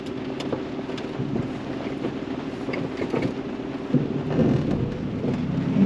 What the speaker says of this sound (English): It's raining a bit harder.